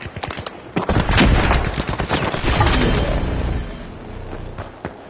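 A frag grenade goes off in The Finals, a loud booming blast with dense crackling debris and sharp gunfire-like bursts that roll on for several seconds before tapering into scattered clicks.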